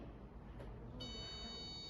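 The buzzer of an RFID card door lock with a solenoid bolt sounds after a card is tapped, starting partway through as a steady, high electronic tone over a low, constant background hum.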